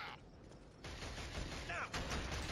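Suppressive gunfire in the Killzone video game, a dense distant rattle of automatic shots with shouted voices over the battle noise.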